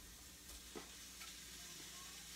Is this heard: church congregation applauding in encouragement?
no